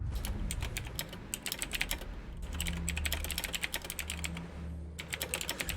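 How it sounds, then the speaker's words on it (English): Rapid typing on a computer keyboard, a dense patter of close, crisp key clicks running almost continuously with only brief pauses. "I was typing all this out because there wasn't a pause"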